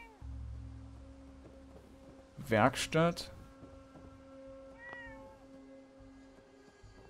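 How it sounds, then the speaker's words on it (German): A cat meows in Fallout 4 at Abernathy Farm: a short cluster of two or three clear meows, then one fainter one, over a steady low in-game hum, with a brief voice speaking. "Eine Katze."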